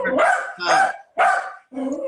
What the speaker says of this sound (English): whoever dog is barking, please mute your